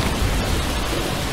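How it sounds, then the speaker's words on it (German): Loud rain in the zombie survival game Dead Age, a steady roaring wash of downpour that fills the whole stretch with no voices. "Meine Güte, ist der Regen scheiße laut."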